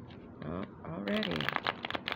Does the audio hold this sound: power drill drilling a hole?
no